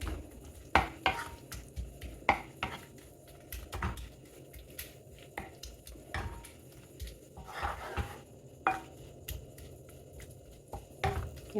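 A spatula mashes soft tomatoes in a pan while cooking dal curry, giving scattered soft scraping knocks and taps against the pan at uneven intervals, close and fairly quiet, with no talk.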